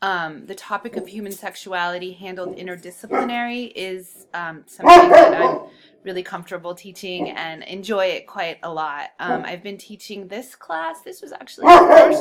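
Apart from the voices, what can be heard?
dog barking loudly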